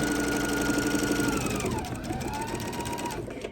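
A sewing machine runs steadily along a tree skirt seam, a close continuous mechanical whir with a rising motor tone that eases slightly before it slows to a stop.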